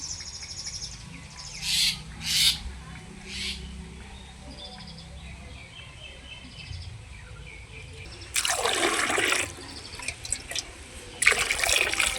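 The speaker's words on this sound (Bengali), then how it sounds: "সবার প্রথমে কাঁচা আমগুলোকে পরিষ্কার করে আমি আগে ধুয়ে নেব।" Raw mangoes are washed in water, with intermittent splashing and sloshing bursts, the loudest near the end, over a quiet background with faint bird calls.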